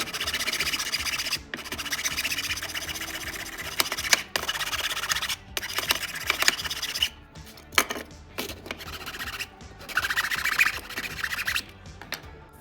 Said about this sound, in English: I can go ahead and use the miter box to help me support these while I file it down